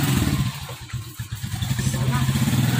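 A motorcycle engine runs nearby while being parked outside a dorm, a steady low chugging idle with rattly clatter and slight revving, loud and continuous throughout.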